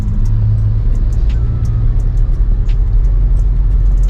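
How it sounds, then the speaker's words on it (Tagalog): Heavy road traffic on a busy street in Iriga at midday, with trucks among the vehicles: a steady, loud low rumble of engines and tires close by, continuous throughout with a few faint higher clicks over the top. "Labasan din yung mga truck."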